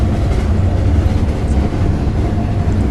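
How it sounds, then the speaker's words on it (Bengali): Loud, steady rumble of a train in a video game as it begins to roll, a continuous low mechanical drone with faint rail rattle, close and unbroken, with no talking. "দেখতে পাচ্ছেন ট্রেন কিন্তু চলতে শুরু করছে"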